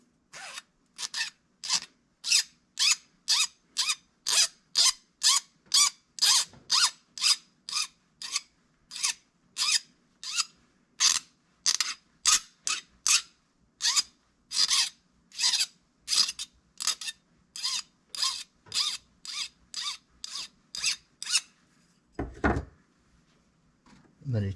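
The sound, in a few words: filing the rough cut end with a file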